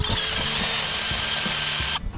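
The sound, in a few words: drill bit drilling out an old hammer handle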